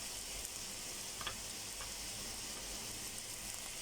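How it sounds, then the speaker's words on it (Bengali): Chopped onion frying in hot oil in a home kitchen, giving a steady, even sizzle that runs throughout, with a few faint clinks of a utensil near the start. "এখন দিয়ে দেবো পেঁয়াজ কুচি"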